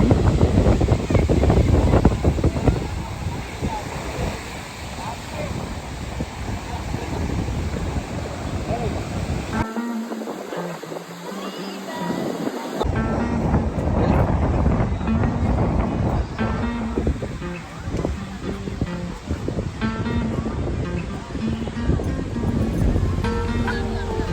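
Sea waves wash onto Kozhikode beach in a steady surf roar with gusty wind buffeting the microphone, cutting out briefly midway, while people talk nearby.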